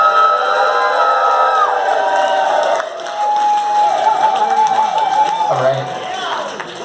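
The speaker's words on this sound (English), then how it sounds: "join me in a round of applause" Audience at a Weird Portland gala claps and cheers for a Hall of Fame inductee, a steady crowd roar with whoops and shouts rising and falling throughout, close and loud.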